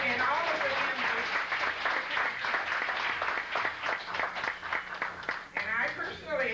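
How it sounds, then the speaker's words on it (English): A crowd at a 1989 family reunion dinner at a Holiday Inn applauds, with dense, loud clapping that fills the whole stretch. "she deserves another round of applause"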